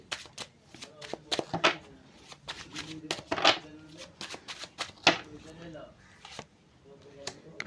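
Tarot cards are handled and shuffled at close range in quick papery riffles and soft slaps, arriving in irregular bursts while someone talks over them.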